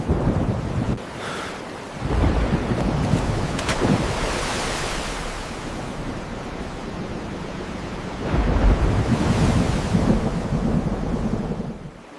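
Thunderstorm sound effect in a children's Bible story of Jonah at sea, with loud rushing wind and crashing surf swelling and easing across the stretch and a low thunder rumble beneath, no voices.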